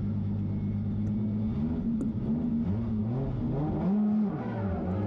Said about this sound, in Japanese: さあスタートしました。 高野先行加速をしていく